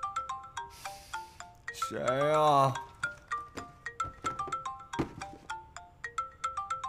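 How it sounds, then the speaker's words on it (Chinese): A phone ringtone plays in a drama scene, a repeating bright melodic pattern of chiming notes that carries on steadily throughout, with a brief voice and a rising tone sweep breaking in partway. "电话"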